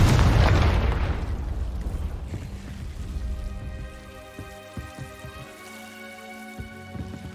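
Casting the Confringo blasting spell in Hogwarts Legacy on PS5 sets off a loud, rumbling explosion that decays into a long, crackling, sparkling tail with soft scattered pops, while ambient game music hums underneath.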